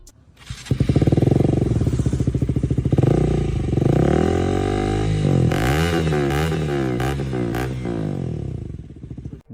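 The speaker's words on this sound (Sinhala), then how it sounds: "හරි අපි දැන් KTM Duke 200 එකේ සද්ද මොනවා වගේද කියලා බලමු." KTM Duke 200 motorcycle engine starts and idles, then is revved repeatedly in sharp rising and falling bursts, loud and close, with no talking.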